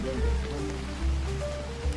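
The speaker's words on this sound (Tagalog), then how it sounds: "Ulan." Steady rain pours in a Roblox game, a dense, even hiss running the full two seconds with low rumbling underneath, fairly loud and continuous with no voices over it.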